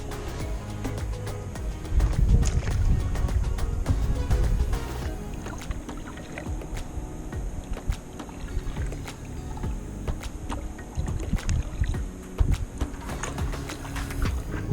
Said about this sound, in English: I've just gone for a little paddle and I'm just paddling over these coral bommies.